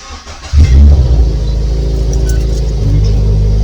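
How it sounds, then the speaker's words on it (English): A car engine cranks and catches at night, then settles into a loud, steady low idle rumble with no talking. "Should we start the car?"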